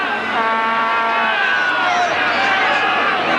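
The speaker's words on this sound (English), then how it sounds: "This big crowd here at the Croatian Sports Centre really making plenty of noise in these early stages" A big crowd of football fans at the Croatian Sports Centre during a 1986 Sydney Croatia versus Sydney Olympic league match, making a steady loud roar, with a commentator talking over it.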